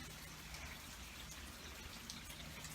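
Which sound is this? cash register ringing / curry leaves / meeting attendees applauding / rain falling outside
rain falling outside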